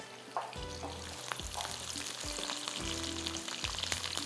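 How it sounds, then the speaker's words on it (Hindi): Onion and tomato frying in a pan, a steady sizzle broken by repeated scraping and stirring strokes and occasional clinks from the utensil, close and moderately loud with no talking. "प्याज थोड़ा सा ये फ्राई हो रहा है"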